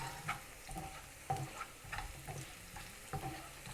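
Garlic frying in oil in a pan until lightly golden, with a steady soft sizzle and a few sharper scrapes and stirs repeating every second or so, close and moderately quiet with no talking.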